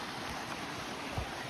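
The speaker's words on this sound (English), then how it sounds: "these are small waterfalls here" Small waterfalls and cascades, water rushing in a continuous broad hiss at low, steady volume with no voices.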